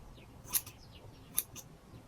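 Two crisp scissor snips cutting natural curly hair, each a short sharp click about a second apart over a faint room hush, close to the ear.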